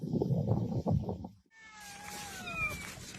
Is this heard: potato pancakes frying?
no